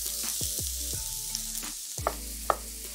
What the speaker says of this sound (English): I'm going to fry an onion and some mushrooms.